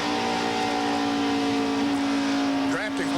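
Engine drone of NASCAR stock cars at speed in the 1989 Miller Genuine Draft 400 at Michigan, a steady loud roar with sustained engine tones throughout and a brief pitch sweep near the end, under announcer commentary.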